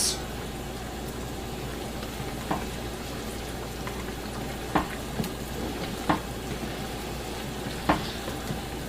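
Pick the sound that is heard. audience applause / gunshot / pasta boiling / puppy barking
pasta boiling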